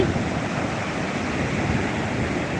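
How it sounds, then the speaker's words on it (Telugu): Ocean surf at Chinnaganjam beach rolls on as a steady, broad wash of waves and wind, constant and fairly loud, with no voices over it. "ఇది మా చిన్నగంజం బీచ్"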